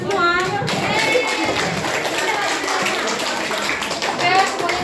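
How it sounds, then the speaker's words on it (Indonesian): A school class claps together in a classroom, quick mixed hand claps under children's voices and chatter, fairly loud and close, with a burst of talk near the start. "tepuk tangan dulu untuk kita semua"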